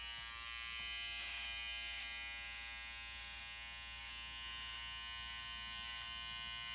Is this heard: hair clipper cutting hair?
yes